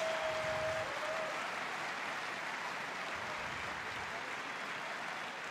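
Crowd applause and cheering at a men's singles quarterfinal badminton match in an indoor arena, a broad steady roar of clapping that fills the whole stretch and carries on at a constant level.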